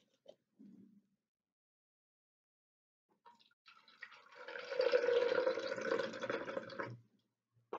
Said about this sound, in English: So first of all, I will add milk to the beaker.